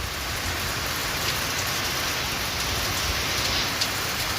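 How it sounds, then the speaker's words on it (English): Steady rain pours down outdoors, a dense, even hiss of drops striking surfaces that holds at constant loudness with no breaks and no voices. "the rain has decided to descend upon me"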